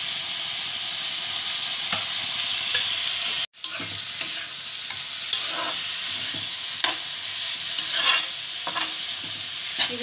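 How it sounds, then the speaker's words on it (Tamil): Ingredients for ghee rice fry in a pan with a steady sizzle while a spoon stirs and scrapes in irregular strokes, broken by a brief silent gap partway through. "இது கொஞ்சம் நல்லா ஃப்ரை ஆகும்"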